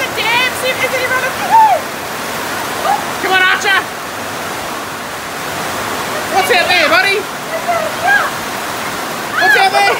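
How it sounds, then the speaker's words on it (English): Heavy rain and runoff water pouring through a flooded backyard during a sudden flash storm make a steady, loud rushing hiss, with voices calling out intermittently over the downpour. "we've actually got some rain. The backyard's pretty flooded."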